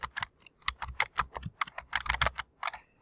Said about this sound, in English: And then I can start typing my text